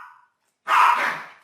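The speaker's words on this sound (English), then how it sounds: "They're playing, the dogs are playing, so it's pretty noisy." Playful dogs give a single loud, close bark burst after a brief faint sound and silence, with no talking.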